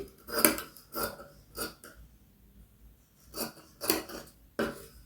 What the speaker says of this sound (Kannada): ನೀಟಾಗಿ ನಾವೇನು ಮಾರ್ಕ್ ಮಾಡಿದ್ದೀವೋ ಲೈನ್ ಹಾಕೊಂಡಿದ್ದೀವೋ ಅಲ್ಲಿಗೆ ನೀಟಾಗಿ ಕಟ್ ಮಾಡ್ಕೊಂಬನ್ನಿ